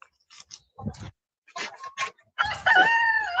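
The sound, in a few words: chickens clucking and rooster crowing at chicken coop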